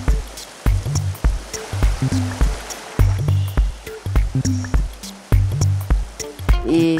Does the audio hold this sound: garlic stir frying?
no